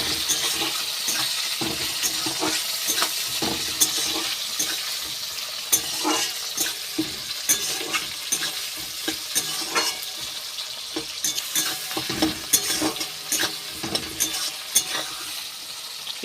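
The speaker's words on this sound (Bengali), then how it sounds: "পেঁয়াজ আর টমেটো একটু ভাজা ভাজা হয়ে গেলে আদা রসুন বাটাটাও দিয়ে দেবো।" Onion and tomato fry in oil for a rohu fish curry, a continuous hissing sizzle broken by repeated scraping and clattering as a spatula stirs them around the pan, fairly close and with no talking.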